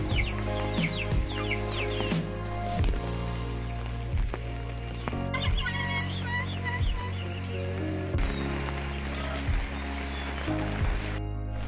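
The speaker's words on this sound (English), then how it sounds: "All the chickens are roosting in there." Chickens roosting under shelter from the rain on a homestead cluck in a steady, close chorus, with repeated short low clucks and occasional louder calls over a constant background.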